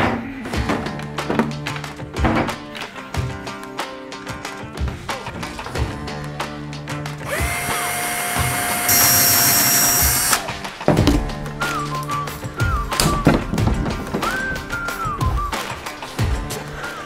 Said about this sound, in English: it's time for the fun part,